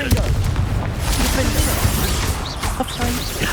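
Confringo fire spell explosion in the video game Hogwarts Legacy, booming blasts over a dense, loud layer of combat effects with voices in the mix.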